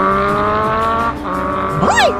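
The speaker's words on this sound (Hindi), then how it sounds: "ये सोनू इतनी स्पीड में कहाँ भाग रहा है?" A cartoon motorbike speeds along with a steady, loud engine whine, then a sharp rising and falling squeal as it races past.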